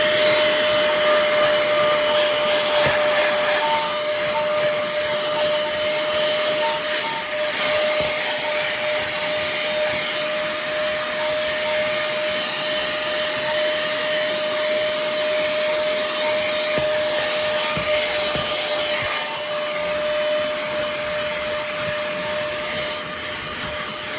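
A Pemacom 10KPa cordless handheld vacuum cleaner running continuously up close, a steady high-pitched motor whine with a broad airy rush and occasional rattling as debris is picked up.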